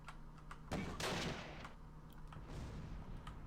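Machine gun fire in the Close Combat Last Stand Arnhem wartime game crackles faintly in a few short bursts, with a louder burst near the start and quieter shots after.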